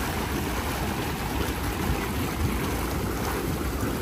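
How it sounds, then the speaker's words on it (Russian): Warm mineral water gushing from hot springs at a thermal resort in Nha Trang, Vietnam, a steady, broad rushing wash heard up close with no talk. "А здесь вот бьют источники теплой минеральной водой."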